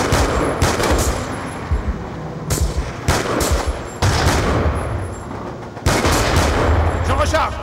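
Repeated bursts of automatic gunfire from a FAL rifle in Call of Duty Black Ops 2, loud sharp reports fired in quick rattling volleys separated by brief gaps.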